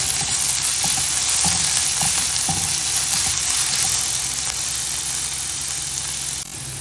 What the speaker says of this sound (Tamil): இப்போ நம்ம நல்லா வதக்கிட்டு 2 நிமிஷம் வதக்குனா போதும்.